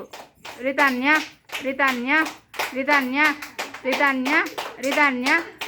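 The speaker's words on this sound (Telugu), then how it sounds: "క్లాప్స్ కొట్టాలి." Young children at an anganwadi play session clap their hands in repeated bursts while a voice and an adult voice talk throughout.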